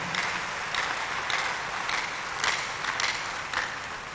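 Congregation applauding at a church thanksgiving service held in memory of L.D. Kabila and Patrice Emery Lumumba, continuous distant clapping with periodic rhythmic swells, heard faintly.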